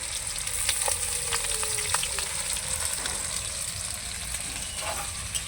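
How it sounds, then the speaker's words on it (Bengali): Onion and capsicum frying in a pan for a quick chilli dish, a steady close sizzle with bright crackling pops and brief stirring scrapes throughout. "পেঁয়াজ আর ক্যাপসিকাম ভালো করে আর একটু ভেজে নেব"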